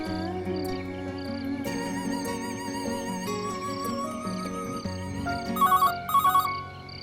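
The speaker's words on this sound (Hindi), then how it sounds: "इतनी रात को कौन फोन कर रहा है?" A telephone rings late at night, a bright electronic ringtone melody repeating in short bursts over a soft musical background, growing louder toward the end.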